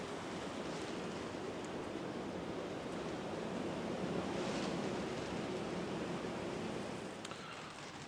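Strong wind blows steadily outdoors in the French countryside, a broad, constant roar that swells slightly midway and eases near the end, with no voices.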